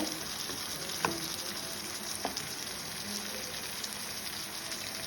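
Fish and masala fry in coconut oil with an even, hissing sizzle that holds steady throughout, with a couple of faint clicks from the pan near the start.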